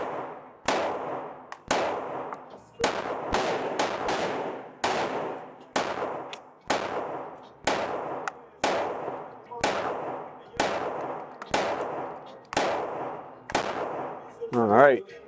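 About fifteen sharp, loud pistol shots from a new Glock fired at a 5-yard target, spaced roughly one second apart with short echoing decays, then a brief muffled sound at the end.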